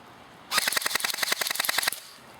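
A JG M4S airsoft AEG rifle fires one full-auto burst of about fifteen rapid, evenly spaced clacks lasting roughly a second and a half, loud and close, with quiet before and after.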